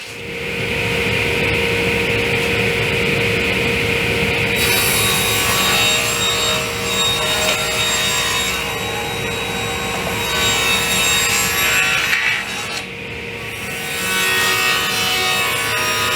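A power saw cuts 4-inch-wide wood pieces with 45-degree miters for kitchen island legs, a loud sustained cutting whine that pauses briefly once before the blade runs on again close up.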